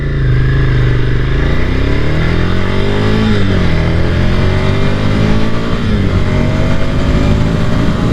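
A 2022 Ducati Scrambler Desert Sled motorcycle in road mode accelerates hard in a pull test, its loud close engine note rising in pitch through the gears, with no talking.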